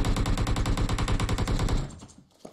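Rapid automatic gunfire in PUBG Mobile, a dense, loud burst of shots lasting nearly two seconds before cutting off into a brief quiet tail.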